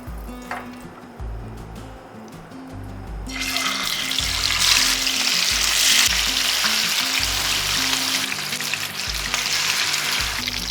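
Fish frying in hot mustard oil for a Bengali fish kalia: after a few seconds of quieter kitchen clatter, a loud, dense sizzle bursts out and keeps crackling steadily until the end.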